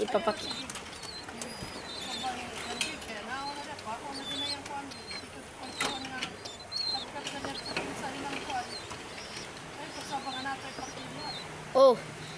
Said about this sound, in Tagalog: So yun ang mga kalapati natin.